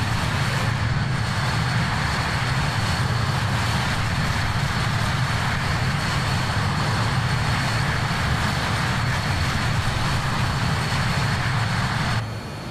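Steady, loud jet engine roar from a BAe 146 four-engine airliner in the JustFlight flight simulator game at Tauranga, continuous broadband drone with a constant hum, cutting off slightly near the end.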